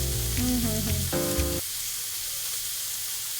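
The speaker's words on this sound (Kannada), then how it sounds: "ಈಗ ನೆಕ್ಸ್ಟ್ ಆಯಿಲ್ಲ ತಿರ್ಗಾ ಅದ್ರ ಮೇಲೆ ಹಾಕೊಂಡ್ತಾ ಹೋಗ್ಬೇಕು" Chicken for a tawa fry sizzles in hot oil with a steady, fairly close crackling hiss. A few brief tonal sounds rise over it at the start, and then only the frying continues.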